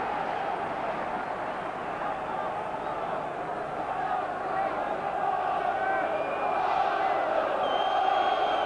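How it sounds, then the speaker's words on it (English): Large Highbury football crowd at an Arsenal v Valencia Champions League match, a steady roar of chanting and cheering filling the stadium, swelling slightly toward the end. "The most vocal that the Highbury crowd have been so far."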